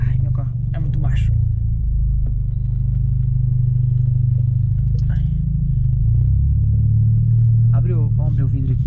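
A Volkswagen Jetta turbo idles and rumbles late at night outside a residential building, its low steady engine drone sustained throughout while people talk inside the car over it.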